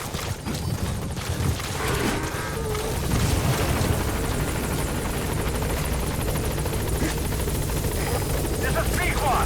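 The Pequod helicopter arrives at a landing zone in Metal Gear Solid V, its rotors beating in a loud, continuous throb with a voice heard over it.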